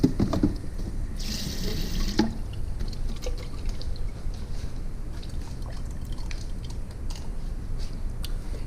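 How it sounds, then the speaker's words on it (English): Tap water runs into a container for making tubeless tire sealant, a steady close rushing splash that continues throughout, with a brighter surge early on and no talk. "I'm just gonna put some water in here really quick."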